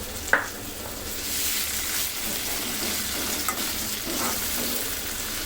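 Tomato dropped into onions frying in a pan for a koi fish bhuna, giving a brief clatter at the start and then a steady, close sizzle with occasional stirring scrapes and no voices.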